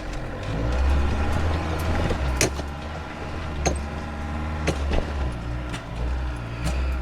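An off-road vehicle crawls in low range, second gear, with a steady low engine drone and occasional knocks and clunks from the body over rough ground.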